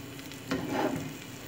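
Sausage and cabbage omelette batter sizzles in a large frying pan, a steady close frying hiss that swells briefly midway as the batter spreads across the hot surface.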